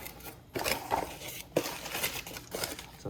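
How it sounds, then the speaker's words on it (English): Packaging around a mail order of Cherry MX Brown keyboard switches for a Keychron Q3 is handled close up, with bursts of plastic crinkling and rustling separated by brief pauses. "Some packaging materials."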